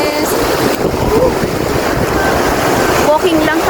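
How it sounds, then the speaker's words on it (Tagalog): Strong ocean waves on a Boracay beach, a loud continuous roar of surf mixed with heavy wind buffeting, with faint voices in the background. "Ang lakas ng alon"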